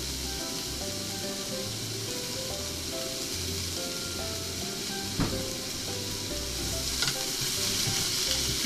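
Onions, grated for pork ginger-yaki, stir-fry in a pan with a steady, close sizzle, broken by a few sharp utensil knocks and scrapes partway through.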